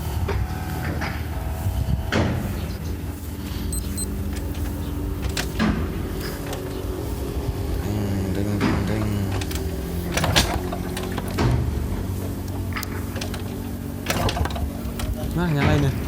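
A Yamaha TZM 150 two-stroke motorcycle is kicked and starts, with a buzzy, rattling engine note, mechanical clunks and repeated revs close by while someone talks over it.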